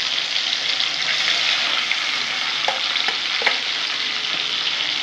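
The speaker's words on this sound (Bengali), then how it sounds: "ভালো করে এখন ভেজে নেব।" Tengra fish frying in hot oil in a pan, a steady dense sizzle running evenly throughout with a few brief crackles and spatters, close and fairly loud, no voices.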